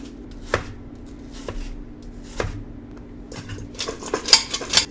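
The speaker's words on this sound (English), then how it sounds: "Next, take an apple, because I like apples. And I'm just gonna peel this." Knife work on an apple at a kitchen counter: sharp tapping cuts at a slow, uneven pace, then quicker scraping and clicking near the end, close and clear with no talk.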